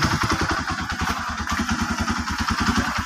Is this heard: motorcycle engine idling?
yes